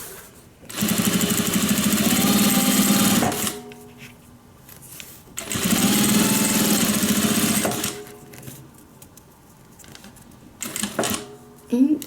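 A sewing machine runs a medium-length joining stitch along a 1/2-inch seam on a homemade airliner cabin bag, in two steady whirring bursts of about three seconds each, separated by quieter handling and short clicks.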